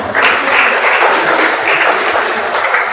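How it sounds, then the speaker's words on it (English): Loud, steady applause from a convention audience, dense clapping filling the room close by without a break for the full stretch. "please give her a round of applause"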